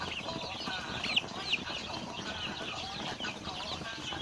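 A flock of five-week-old Roman Brown laying hens clucks softly during evening feeding, with a steady murmur of chatter from many birds and a few brief, sharper calls standing out.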